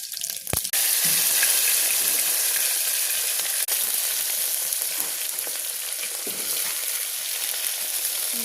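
Masala sizzles loudly in hot oil for moong dal khichdi, a continuous bright frying hiss with a sharp clatter near the start and a faint knock midway.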